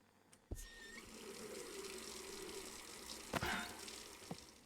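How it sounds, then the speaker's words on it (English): Water gushing and pouring into a brewing pot in the Brewmaster beer brewing simulator game, a steady soft stream with a few sharp clicks and knocks, quiet and alone. "just add a bit more water in here."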